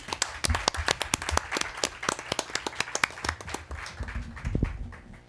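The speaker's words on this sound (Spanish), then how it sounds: "Un aplauso para ustedes" Applause from an audience at a Spanish-language talk on language and culture, with dense, rapid hand claps that continue steadily throughout and swell slightly toward the end.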